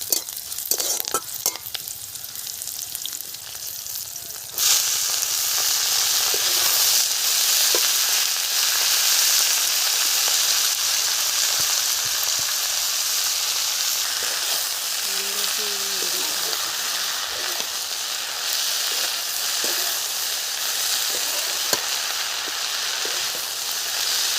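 Green chili halves frying in hot oil in a pan, a steady loud sizzle that swells after a few seconds and holds continuously, close up with no talk.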